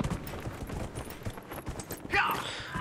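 Galloping Galla mount hoofbeats in Dragon Age: Inquisition, rapid clopping thuds running throughout, with a brighter burst of game sound near the end and a voice talking over part of it.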